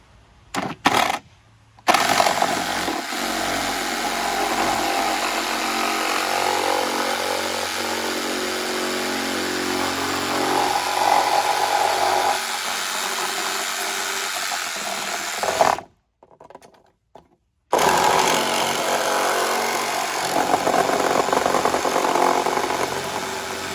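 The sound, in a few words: reciprocating saw with metal blade cutting vinyl gutter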